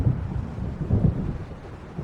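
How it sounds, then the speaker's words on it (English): An approaching storm in the video game Alan Wake brings deep rolling thunder, a low rumbling swell with a couple of heavier surges and soft rain-like hiss beneath, with no speech. "It seems there's a storm coming."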